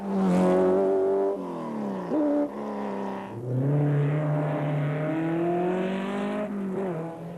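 A Ferrari 308 Group 4 race car engine howls as it drives, its pitch rising and falling through gear changes, loud and close throughout.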